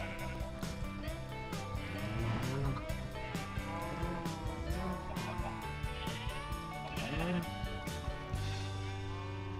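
A cow in the video game Minecraft lows a few times in short, drawn-out calls over steady in-game music.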